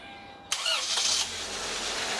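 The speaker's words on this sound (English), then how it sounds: "and start the car" A car with a timing chain starts up: an abrupt crank and catch after half a second of quiet, a brief rising rev, then a steady idle that carries on alone.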